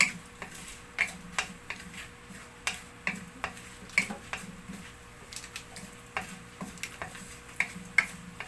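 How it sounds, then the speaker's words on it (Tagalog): Dried anchovies (dilis) sautéing in hot cooking oil in a heated pan, with steady faint sizzling broken by frequent sharp ticks and clicks of stirring against the pan, close by and without talk. "Gisa ko muna tong dilis ng bahagya."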